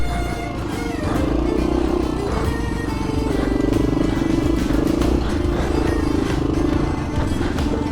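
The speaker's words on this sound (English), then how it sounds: "This is my first time on an enduro bike." A Honda XL 500 R enduro motorcycle engine drones steadily and loudly while riding off-road, a continuous low throbbing note with clattering mechanical texture and no pauses.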